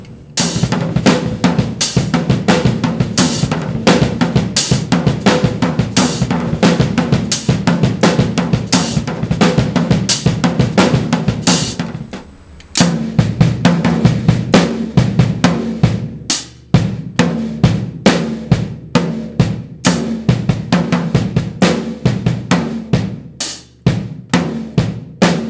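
A loud, close drum-kit groove played alone that works bass drum pedal doubles and singles, busy kick patterns under ringing cymbals and snare backbeats. It breaks off for a moment at the midpoint, then resumes with sparser, punchier hits.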